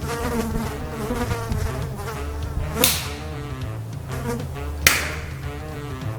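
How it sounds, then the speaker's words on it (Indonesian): Flies buzzing close around a person, a continuous droning whine with wavering pitch that swells nearer, broken by two sharp swatting slaps. "ada lalat ngerubungin saya"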